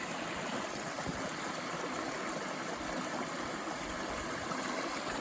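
Steady rushing of Thompson Brook at an Appalachian Trail crossing, an unbroken close wash of flowing stream water with no speech over it.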